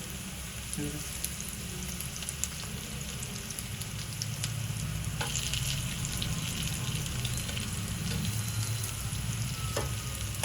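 Drumstick leaf vadi slices frying in a pan after being flipped, a steady close sizzle and crackle of hot oil running the whole time, with a few faint clinks.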